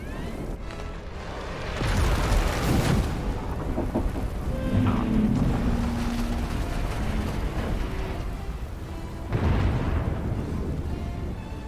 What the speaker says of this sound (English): Well, that was an impressive explosion.